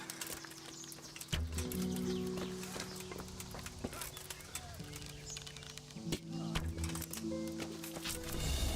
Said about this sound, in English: Got that horse!